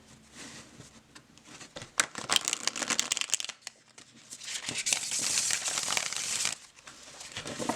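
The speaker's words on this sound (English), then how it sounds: "I did want to share the shuffle" Tarot cards riffle and shuffle in repeated bursts of crisp, papery flutters and clicks, close by, with brief pauses between passes and no talking.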